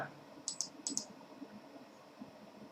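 A computer keyboard is typed on in a few quick, faint clicks, two short pairs of keystrokes close together, over a quiet room hum.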